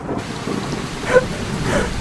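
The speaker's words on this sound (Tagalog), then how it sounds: "Lakas ng ulan!" Heavy rain pours in a steady, hissing wash that stays constant throughout, with faint tonal sounds briefly rising above it.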